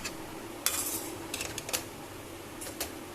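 Poha gets stirred in a metal pan, a spatula clinking and scraping in several quick bursts over a soft background hiss, close and moderately loud, no talking.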